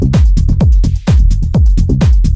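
A punchy synthesized bass line pulses in a steady rhythm, each note dropping in pitch, loud and up front with no voices.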